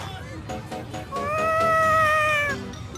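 A cat meows in the Tales of Xillia 2 video game, a drawn-out, rising and falling call that is loud and clear over soft background game sounds.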